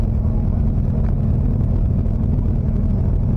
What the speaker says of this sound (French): la voiture de tourisme qui part